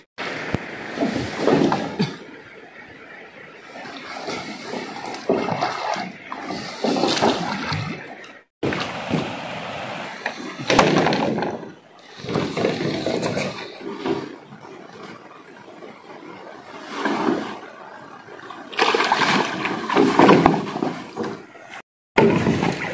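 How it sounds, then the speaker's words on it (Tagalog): Intermittent sloshing and splashing of water around a bamboo raft drifting on a river in Lagonoy, Camarines Sur, bursts of wash and paddling alternating with quieter gaps and a brief cutout. "gagawin natin balsa. Ipapaanod natin dito sa ilog."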